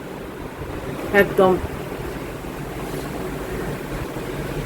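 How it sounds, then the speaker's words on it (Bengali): Strong, stormlike wind rushes steadily against the microphone as a continuous loud roar, with a brief spoken word near the start. "এই দেখো কি হাওয়া, দেখেছো, ঝড়ের মতো"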